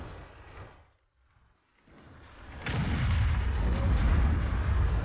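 A tank cannon shot glancing off armour in World of Tanks, with a French AMX 50 B heavy tank in battle. A rumbling shot fades into near silence, then a loud, sustained low boom and rumble rolls in and holds to the end.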